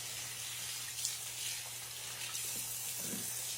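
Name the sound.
washing hands under running tap water at a sink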